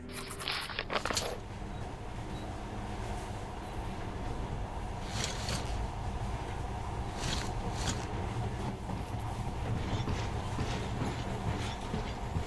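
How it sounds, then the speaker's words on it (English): A monorail train in the game Metro Last Light runs with a steady, loud rumble and rattling clatter, a few sharp clicks and bursts over the continuous hum, with no talking. "In the past, trains were ordinary things, but now this monorail seems magic, doesn't it?"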